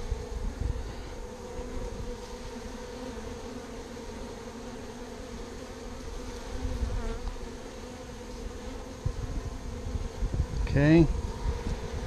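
A honey bee swarm hums around a hive during a swarm capture in Texas, a soft steady buzzing drone with a few bees passing close, and a person briefly speaks.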